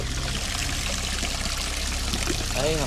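A mountain stream runs beside a levada water channel in Madeira's Fanal forest, a steady close rush and trickle of water, with a brief voice near the end.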